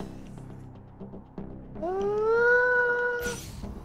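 In the video game Wasteland 3, a cat gives a loud, drawn-out rising yowl lasting over a second, followed by a brief hissing burst, over a low game soundscape.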